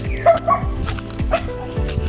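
A dog barks several times in quick bursts on a roadside, close and loud, with some yips mixed in over faint background noise.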